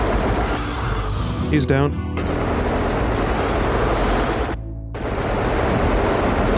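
Sentry guns in the video game RimWorld fire on Xenomorphs as dense, sustained gunfire that roars almost without pause, dropping out only briefly near the end, while a voice speaks over it.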